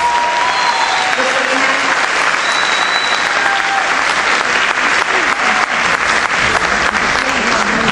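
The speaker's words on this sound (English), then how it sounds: "Give these 3 fine young men a big round of applause" At a school senior awards ceremony an audience gives a big round of applause for three young men, a loud, dense, continuous clatter of clapping with faint cheers and voices mixed in.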